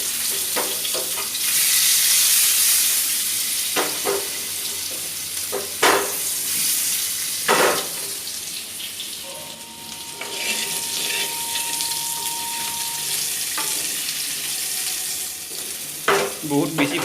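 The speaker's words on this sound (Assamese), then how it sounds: "বহুত বেছি ভাজিব নালাগে, কাৰণ অলৰেডি আমাৰ আলুকেইটা সিজোৱা আছে" Boiled potatoes sizzle and crackle in hot oil with a dried red chilli in a home kitchen pan, a loud steady frying hiss broken by occasional stirring scrapes and clinks.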